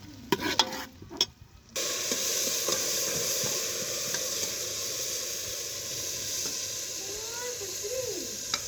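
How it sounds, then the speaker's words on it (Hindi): Steady frying sizzle and hiss from a pan of onions frying to golden brown, close by, with a few clinks and stirring scrapes at the start. "प्याज को सुनहरा ब्राउन होने तक फ्राई करेंगे।"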